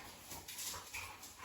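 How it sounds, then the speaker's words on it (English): Dogs whimper faintly in the background, a couple of soft brief whines over quiet room tone. "Sorry about the dogs in the background there."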